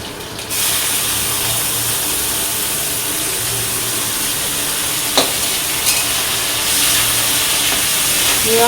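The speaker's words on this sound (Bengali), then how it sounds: "তারপরে যে পেঁয়াজ কুচিয়ে রেখেছি, পেঁয়াজটা দিয়ে দেবো।" Chopped onion and fresh curry leaves hit hot oil in a frying pan with partly fried potatoes, bursting into a loud, steady hiss that carries on close by, with a couple of brief knocks of a utensil.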